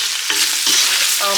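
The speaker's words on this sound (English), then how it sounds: "see how it's releasing the" Meat fries in a pan as its fat renders, a steady close sizzle with a few stirring scrapes and small pops, no talk over it.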